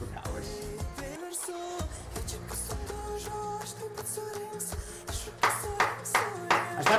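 Rhythmic clapping effects woven into a Eurovision pop song, with sharp claps sounding over the music, strongest and most regular in the final seconds while a voice talks over part of it.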